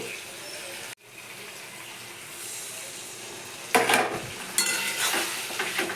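Soaked mustard, turmeric and chilli powder paste poured into a pan of fried ginger and garlic for a fish curry, a quiet hiss first, then sharper sizzling bursts and stirring in the last seconds.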